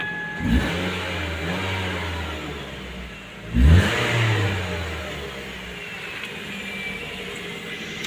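A 2011 Ford Focus 2.0 petrol automatic revs twice, each brief rise settling back to a smooth, steady idle heard close up with no talking.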